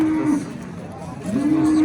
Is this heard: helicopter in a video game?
no